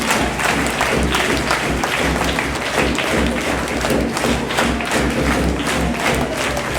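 An audience applauds at a school event honouring office bearers, loud continuous clapping from many hands with thumps and crowd noise filling the space.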